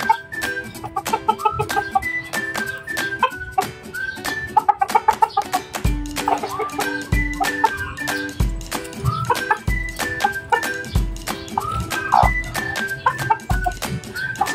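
Chickens cluck at a new laying nest, a steady stream of repeated pitched clucks and calls over a backyard flock, with occasional dull low thumps mixed in.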